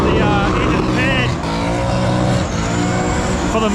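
Race car engines run loud and continuous on the Summernats engine pad, a dense revving drone with shifting tones, crowd and voices faintly mixed underneath.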